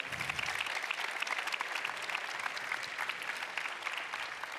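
A graduation ceremony audience at a business school claps steadily for the technical teams, a dense, even patter of many hands heard from a distance at modest volume.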